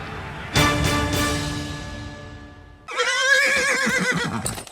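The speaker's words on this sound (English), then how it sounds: "Is that a horse? Actually, it's a wild stallion." A wild stallion in a radio ad lets out a loud, close neigh with a trembling, descending whinny, followed by a second shriller, wavering whinny, with no talk.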